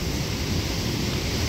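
A raging creek near the Hite Bridge, dense, loud, continuous roar of rushing whitewater with no break and no voices.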